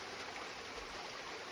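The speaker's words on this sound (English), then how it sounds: "taking a couple minutes to just sit by the creek one more time" Creek water flowing beside the Appalachian Trail in Pennsylvania makes a steady, close, broadband rush with no pauses and nobody speaking.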